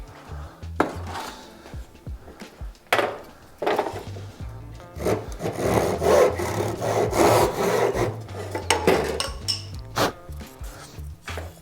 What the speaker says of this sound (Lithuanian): Pjūklas, va.